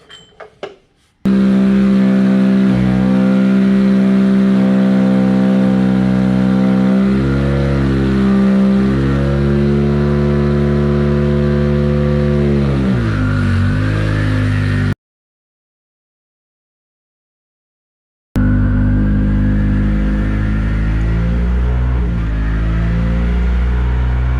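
A Dodge Colt engine runs loud and close with repeated revs rising and falling, briefly cut to silence partway before resuming, no talk over it.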